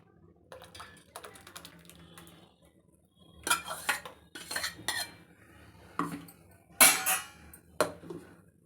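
Ground muskmelon pulp is tipped into a vessel of jaggery water, a spoon clinking and scraping against the metal vessel in several sharp, irregular bursts between quieter moments, close by, with no speech.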